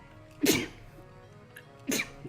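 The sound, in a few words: sneeze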